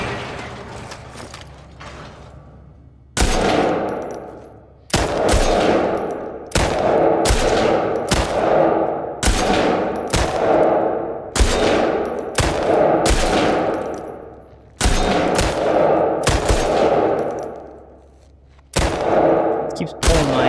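Rapid bursts of gunfire ring out in a shooting contest in The Last of Us Part 2, with a dozen or so sharp loud shots in uneven groups, separated by short gaps and mechanical clicks, no talk over them.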